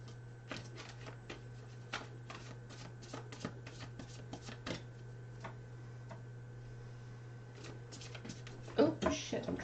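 Tarot or oracle cards being shuffled indoors during an angel card reading, a run of light irregular riffling ticks over a steady low electrical hum, with a louder burst near the end as the cards spill.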